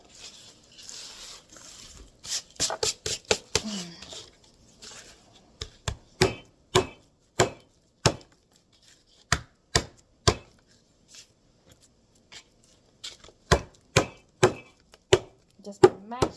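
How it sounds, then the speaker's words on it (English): Garlic cloves whacked and mashed for a batch of fire cider, sharp isolated thuds at an irregular pace, sparse at first then more frequent, close and clear with quiet gaps between. "I literally am just going to whack these cloves and put some in each jar."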